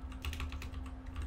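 Rapid typing on a computer keyboard at a Windows Server file server, entering a PowerShell command; a quick run of close, fairly soft key clicks over a steady low hum, with no talking.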